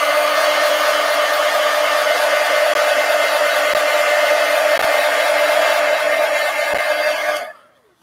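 A hair dryer blows on wet paint in an adult coloring book, a loud, steady close whoosh for about seven seconds before it switches off abruptly.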